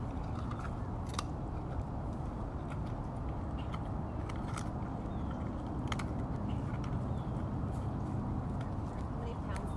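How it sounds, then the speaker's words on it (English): Simba the tiger crunches through his breakfast, giving off a string of sharp, irregular bites and snaps over a steady wash of outdoor background noise. "I'll be quiet so you guys can hear him crunching."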